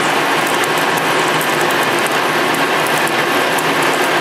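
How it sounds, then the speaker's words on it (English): A lathe cuts a narrow groove in metal with coolant flowing, giving a loud, dense mechanical grinding with a rapid ratcheting chatter as the machine strains, continuous and close, no voices. "You can hear the machine straining a little bit."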